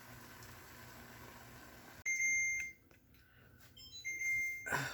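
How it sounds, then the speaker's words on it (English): An electronic alarm beeps in a few short, bright tones after a sudden start, moderately loud over a quiet background hum, with no talk. "my alarm is going off"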